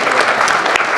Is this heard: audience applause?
yes